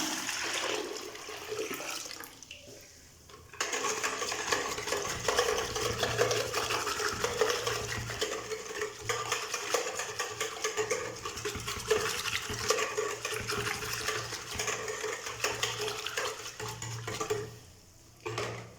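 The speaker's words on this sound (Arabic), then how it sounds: "دابا غنكب الماء" Boiled, cooled water pours in a steady, sustained stream into a container for Iraqi vegetable pickles, with a brief pause early on and a rushing splash that carries close and continuous for most of the span.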